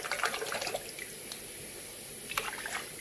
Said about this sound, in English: give that a quick swirl there in the water